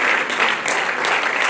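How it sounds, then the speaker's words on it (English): Audience clapping fills a ceremony honoring a dignitary, a dense, steady patter of many hands that holds at an even loudness throughout, with no voices breaking through. "Let's keep clapping until we say thank you."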